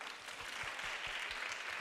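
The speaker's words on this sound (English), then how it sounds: "you still want to give them a round of applause?" An audience gives a round of applause at a live-streamed event, a steady patter of clapping hands heard at moderate distance, fairly faint and continuous.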